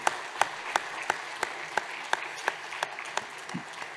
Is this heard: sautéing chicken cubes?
no